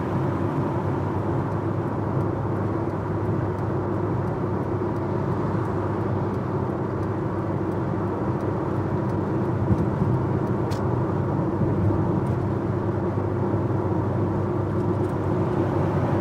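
Vauxhall Cavalier driving on a motorway, with a steady, unbroken drone of engine and road noise inside the car throughout and no voices.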